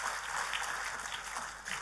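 Congregation applauding during a church testimony service, a fairly faint, steady patter of clapping from a crowd that stays even and then swells slightly at the end.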